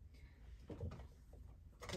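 A drawer slides open and shut with brief scraping and rattling bursts, close but quiet, as someone rummages through drawers for craft stamps.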